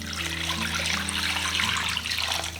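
Water runs steadily from a tap into a large pot holding glass jars of roasted peppers set on a cloth for canning, a continuous splashing fill heard up close with no talking.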